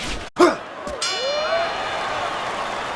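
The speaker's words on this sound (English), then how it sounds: "And the bell rings, signifying the end of the round." A boxing bell rings to end a round in EA Fight Night Champion: one loud clang, then a bright metallic tone that rings on and slowly decays.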